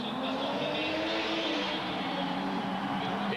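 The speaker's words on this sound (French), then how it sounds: "Et Sébastien Loeb au volant de la Porsche" A Porsche race car driven by Sébastien Loeb at the 2006 Race of Champions on a narrow track, a steady engine drone holding at moderate loudness without clear gear changes.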